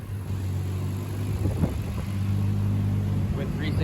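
Turbocharged Lexus IS300 with a built engine and Precision turbo revving hard on a dyno, a steady loud low drone holding throughout with a brief surge partway, while someone talks over it.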